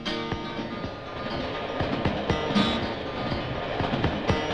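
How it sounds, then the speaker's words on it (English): A French National Railway prototype turbo train running in high-speed tests, heard as a steady rumble with repeated rail clicks and rattles throughout, moderately loud and continuous. "The French National Railway's prototype turbo train is put through high-speed tests."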